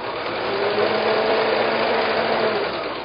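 Sewing machine running continuously as it stitches quilt block seams, a steady, even mechanical whir with a fast motor hum that stays at a constant level throughout, close up with no voices.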